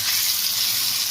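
Hot oil sizzles steadily in a pan, heated for frying fish in a Malnad-style home kitchen, a continuous bright hiss with no talk over it.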